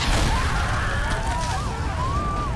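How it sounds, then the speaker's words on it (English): Explosion at the opening of the PS3 video game Infamous: a loud, low rumbling boom that fills the whole stretch, with a sustained roar and tonal effects layered over it. "you just go straight from the menu to an explosion on a new game"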